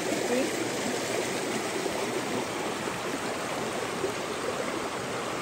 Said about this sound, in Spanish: Este es el agua de la cascada.